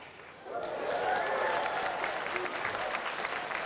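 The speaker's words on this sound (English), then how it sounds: "I get the biggest applause for that?" Applause erupts from the crowd at a Transformers fan convention dinner in 2000, starting suddenly after a quiet moment and holding as a fairly distant, steady wash of clapping with murmured voices beneath.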